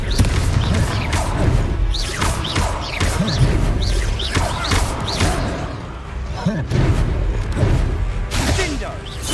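Confringo fire spell blasts in Hogwarts Legacy combat, a loud busy run of crashes and thuds under battle voices, with repeated impacts filling the scene from start to finish.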